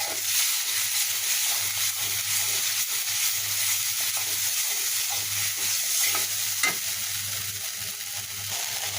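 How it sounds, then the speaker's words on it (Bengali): Onion, garlic, ground spice paste and tomato sauce fry in oil in a wok, a steady close sizzle with scraping stirs running throughout, no talking. "একটা কড়াইতে তেল দিয়ে পেঁয়াজ রসুন তারপরে সমস্ত বাটা মশলা এবং টমেটো সস দিয়ে এটাকে ভালোভাবে কষিয়ে নিলাম"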